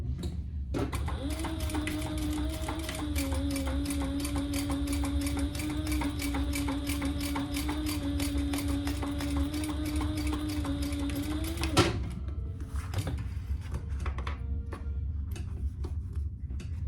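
A sewing machine runs steadily through a long line of top stitching on a crossover project, its rapid even needle clatter close and continuous for about eleven seconds before stopping, followed by quieter handling noises.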